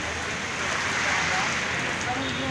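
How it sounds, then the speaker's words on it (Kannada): Heavy rain pours down during Mangaluru's monsoon, a dense continuous hiss of drops hitting surfaces, loud and near, with faint background tones. "ನಾನು ಬೇಡೇನು ಅಂತ ಹೆಂಗೆ ಮಳೆ ಬರ್ತಾ ಇದೆ ನೋಡಿ."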